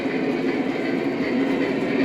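An SD70 diesel locomotive, the Tuskegee Airman 72 tribute unit, hauling a train past, with a continuous loud rumble and rail noise that stays steady and close.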